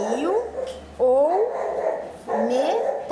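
Dogs bark in three loud, close bursts of rising yelps and barks, separated by short pauses, with a person speaking in between.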